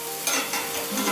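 A taco rollup frying in a hot pan gives a steady, close sizzle with a louder crackling burst as it is flipped over.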